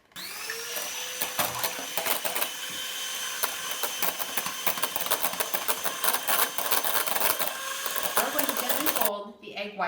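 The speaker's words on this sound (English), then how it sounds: "you'll need to have clean beaters so that you can bring the egg whites to stiff peaks" An electric hand mixer whipping egg whites to stiff peaks for tiramisu gives a steady, close motor whir, with rapid rattling clicks of the beaters against the bowl, before stopping abruptly near the end.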